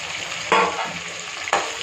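Drumsticks sautéed in a hot oiled pan give a steady loud sizzle, with two sharp bursts as the pieces are stirred and scraped, no voices.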